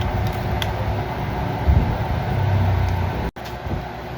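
An angle grinder, just fitted with a new bearing and carbon brush, runs with a steady close whirring hum and an airy fan-like hiss. The sound cuts out briefly near the end, then resumes.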